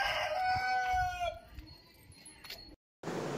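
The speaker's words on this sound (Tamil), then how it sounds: "எவ்வளோ கோழி பாருங்கள்." A rooster crows loudly and close by near a house among a flock of chickens, with softer clucking and rustling after the crow and a short dropout before the sound resumes.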